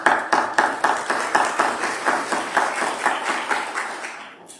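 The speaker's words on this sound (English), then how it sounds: "Can you clap a hand for them?" A church congregation on Easter Sunday claps steadily to welcome first-time worshippers, a broad run of fairly even, rhythmic claps filling the room for several seconds before thinning out.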